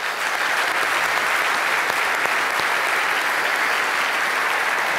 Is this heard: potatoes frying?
no